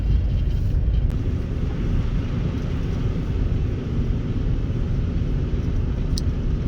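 A car with studded tires drives north on a snowy Pyramid Highway in Sparks during a winter storm, heard from inside as a constant loud low road rumble and tire roar with no voices.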